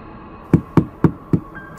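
Four even knocks on a wooden house door, spaced about a quarter second apart, crisp and fairly close, followed by a faint high tone as they end.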